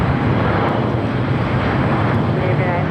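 An ANA airliner climbs out of LAX bound for Tokyo Narita, its engines a continuous broadband rumble at moderate distance with wind buffeting the microphone.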